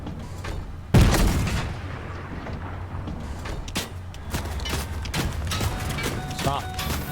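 Fortnite gunfire rings out as a sharp loud shot and then a run of scattered gun bursts and booms over a busy game soundscape.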